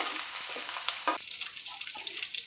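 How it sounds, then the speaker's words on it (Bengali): Dried red chillies and chopped ginger frying in hot oil for a homemade fish pickle, giving a steady close sizzle broken by a few sharp crackles and stirring scrapes, with no talk. "আদা কুচিটা দিয়ে একটু নেড়ে চেড়ে ভেজে নেব।"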